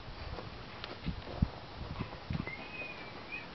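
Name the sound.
horse hooves clip-clopping while a child rides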